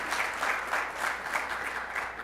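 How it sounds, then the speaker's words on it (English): An audience at a youth entrepreneurship challenge applauds steadily, a dense, even wash of clapping from a crowd that holds at the same level throughout. "Give a round of applause."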